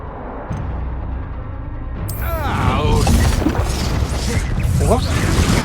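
Bursts of fiery spell-casting in Hogwarts Legacy combat, a crackling whoosh and crash rising after a quieter start, with voices talking over the noise.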